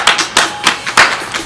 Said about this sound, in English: Let's give a huge round of applause for the football team.